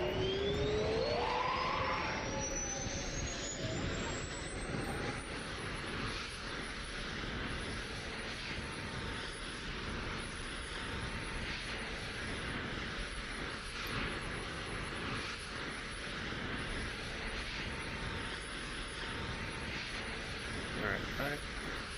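An F-22 Raptor auxiliary power unit spinning up in a flight simulator, a rising whine that climbs in pitch over a few seconds and then settles into a steady high-pitched turbine hum with a broad roar beneath.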